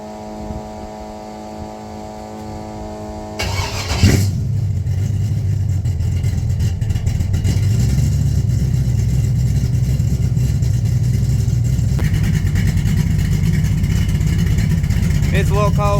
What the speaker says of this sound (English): We'll crank her up.